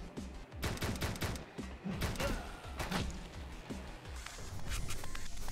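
Gunfire fills the video game Speed Limit, dense bursts of rapid shots and thumping impacts running almost nonstop at close range.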